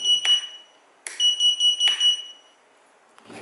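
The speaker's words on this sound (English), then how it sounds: "now I set the beeper" The beeper on a Devo 7 radio transmitter running Cleanflight sounds in repeated bursts of shrill electronic chirps, loud and close, separated by brief clicks and short pauses.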